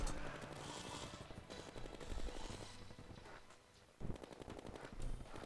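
Rapid bursts of Terraria gunfire, with shots enhanced by Cursed Flames during a Solar Eclipse event, crackle continuously, with a brief lull before the shooting picks up again, all layered over busy game sounds.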